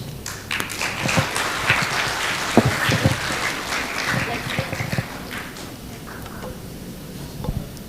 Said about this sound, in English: let's give round of applause once again for Miss Nan